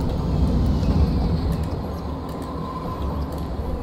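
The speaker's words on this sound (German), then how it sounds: "Und da kommt wieder ein Zug." Trains in the Cities: Skylines city-builder game, a steady low rumble of rolling rail cars with faint clatter throughout, loud and continuous with no voices.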